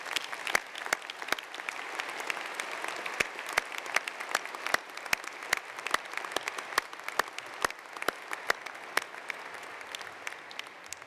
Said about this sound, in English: I would like to ask everyone to give a round of applause to our Pro-Chancellor